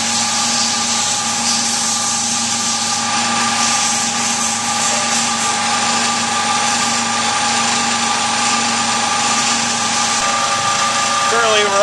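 Steady electric motor whine from a four-square dynamometer running at no load, with constant tonal hum and high-pitched whir throughout, close and unchanging.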